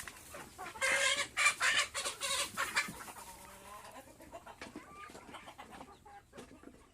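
A silkie hen clucks repeatedly in a yard among larger native chickens, a burst of loud close clucks early on, then softer scattered clucks and calls that trail off, with no talk.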